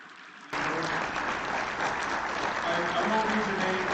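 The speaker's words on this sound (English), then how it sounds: "So if the students would stand up for a round of applause." A room of people at a Rotary meeting breaks into applause for students. The clapping starts abruptly after a short pause and stays steady and full to the end.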